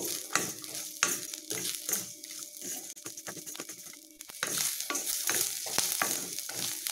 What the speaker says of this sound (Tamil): இந்த வெங்காயம் தேங்காய் பச்சை மிளகாய் இதெல்லாம் நல்லா வதங்கட்டும்